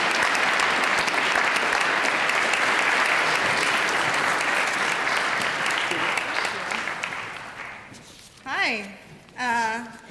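Sustained applause from a school audience at a Cum Laude induction ceremony welcomes a returning alumna keynote speaker, loud and steady for about eight seconds before fading, followed by brief speech.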